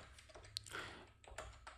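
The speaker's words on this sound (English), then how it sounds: "I'm gonna type in my email" Quiet, quick taps on a computer keyboard as an email address is typed, a short run of soft, irregular clicks close by.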